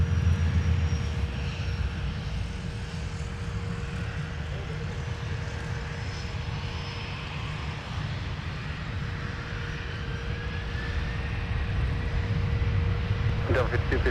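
At MSP airport, an airplane's engines roar in a steady, continuous drone as it takes off from the runway, heard at moderate distance for the whole stretch with a faint rising whine and a brief clatter near the end.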